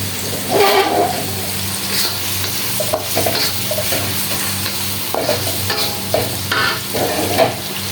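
Sliced onion with salt sizzles in hot oil in a pan while being stirred, with steady frying hiss and intermittent scraping strokes, close and fairly loud.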